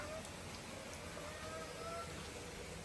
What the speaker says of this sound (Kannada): ಸ್ಟಾರ್ಟ್ ಆಯ್ತು ಅನ್ಕೊಂತೀನಿ ಗೈಸ್ ಮಳೆ ಮಳೆ ಬಂತು